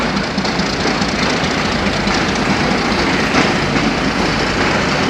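A train rumbles past loudly and steadily on the new Kamalapur to Bhanga line, with a dense, continuous roar of wheels on track throughout.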